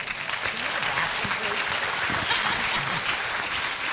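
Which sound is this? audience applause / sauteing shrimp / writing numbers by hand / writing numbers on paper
audience applause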